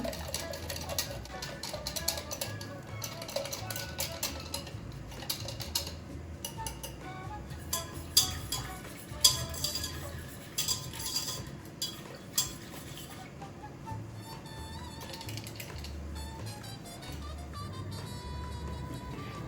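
Wire whisk stirring milk with potato starch and wheat flour in a bowl for a vegan tofu karpatka dessert, giving a steady run of quick clicking and scraping taps against the bowl, close and continuous.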